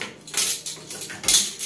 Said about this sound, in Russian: Кастрюли моем, и сковородки, и ложки, чашки,